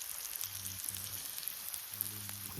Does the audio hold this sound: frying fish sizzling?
yes